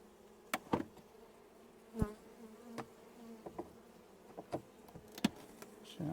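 Honeybees buzzing around a pair of five-frame nucleus hives made from a split, a steady low hum broken by the louder passes of single bees flying close to the microphone.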